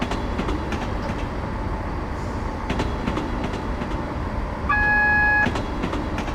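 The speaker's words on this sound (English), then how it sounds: "I'm just applying the brakes now just to make sure that our speed comes off" A Class 170 train in Train Simulator 2015 brakes on the approach to Dundee, a steady rolling rumble with rhythmic wheel clicks, interrupted by a short tonal horn-like beep near the end.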